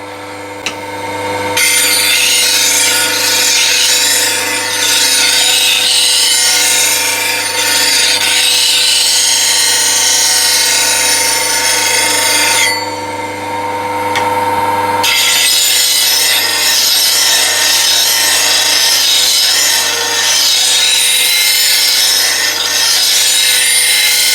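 A spindle gouge is sharpened freehand against a grinding wheel on a right angle Talon platform. The loud, continuous abrasive grinding runs throughout and briefly eases off about halfway before resuming.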